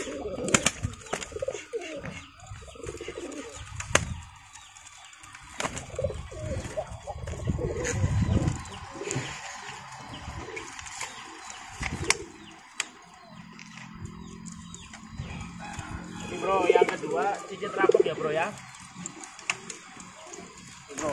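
Pigeons cooing in a courtship display, with soft, low, throaty coos heard close by among other bird calls, outdoor clatter and people talking nearby.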